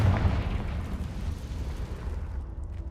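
A Confringo fire spell explodes in a Harry Potter video game: a deep, rumbling blast that swells at once and then fades into a dull roar over about three seconds.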